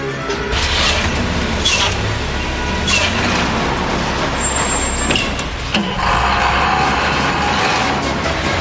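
Heavy trucks rumble and idle nearby, with engine roar, hissing bursts of air brakes and a brief squeal, loud and continuous.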